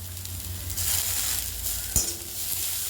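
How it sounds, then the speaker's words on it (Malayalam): Ginger, pepper and curry leaves sautéing in hot oil, a soft continuous sizzle with a faint hiss and one brief knock of a utensil, close and without speech. "പൊടിച്ച് വെച്ചിരിക്കുന്ന ഇഞ്ചിയെല്ലാം അതൊന്ന് വഴറ്റിയെടുക്കുക"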